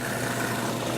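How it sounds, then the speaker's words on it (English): A food processor blending eggplant, garlic and basil, a steady motor whir with chopping churn, close and even across a short stretch. "I'll put it in here, and this is my food processor."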